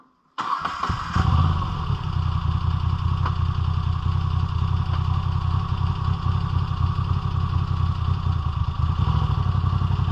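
A BMW V85TT motorcycle engine starts with a quick crank during an off-road ride, then idles loudly and steadily with a rough, clattering rumble, close by.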